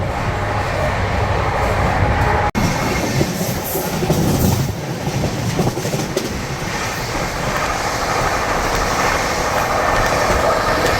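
Rajdhani Express 22222, running from Delhi to Mumbai, overtakes the Telangana Express near Dabra with a loud, continuous rumble of wheels and carriages. A single sharp break occurs early, then the steady roar carries on without pause.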